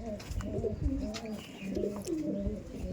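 Laldom and kaldom pigeons coo in low, rolling bursts, several overlapping calls repeating steadily up close, with faint chirps and background noise around them.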